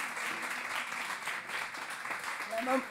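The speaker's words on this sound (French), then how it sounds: "Vous pouvez les applaudir" Applause from an audience at a French youth book prize ceremony, a soft, steady wash of clapping held throughout at moderate distance, with faint voices mixed in near the end.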